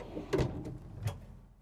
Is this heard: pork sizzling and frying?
no